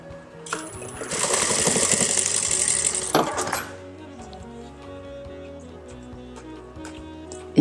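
Sewing machine stitching patchwork fabric pieces, a loud close whirring run of about two and a half seconds that stops abruptly, followed by quieter handling noises while a person talks.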